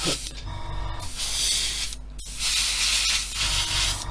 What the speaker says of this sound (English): Let's just get a little coat on there, just a little tap coat to get it sticky